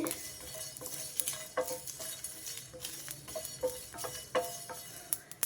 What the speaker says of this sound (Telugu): ఒక వన్ ఇంచ్ చెక్క ముక్క చిన్న స్టార్ పువ్వు రెండు ఇలాచి ఒక నాలుగు లవంగాయలు ఇవి కొంచెం వేగాలండి